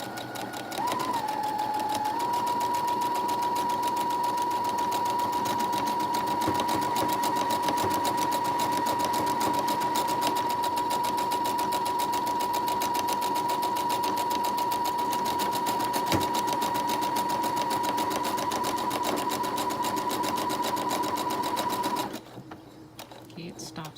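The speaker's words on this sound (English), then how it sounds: "the way this machine does buttonholes, it starts here and it stitches backwards" A sewing machine stitches a buttonhole in reverse, running steadily and close for about twenty seconds with a sustained motor whine and rapid needle clatter, then stopping abruptly near the end, followed by quieter room sound.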